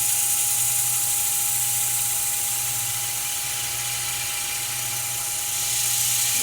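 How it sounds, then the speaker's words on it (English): A reciprocal sander with 120-grit paper works across a wooden box top, a steady close electric whine and buzzing hum that holds constant throughout, with no talking. "So now let's go to the reciprocal sander so I can randomize the marks and make them all disappear."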